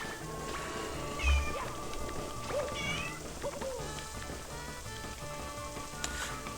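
A house cat meows several times in short, rising cries over a constant background of game music and noise, fairly close and clear.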